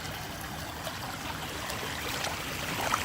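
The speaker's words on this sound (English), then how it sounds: "See, the water goes over like that," Floodwater flowing over plugged street drain covers during a neighborhood flood, a continuous rushing, trickling wash of water, steady and moderately loud, with slight surges and no voices.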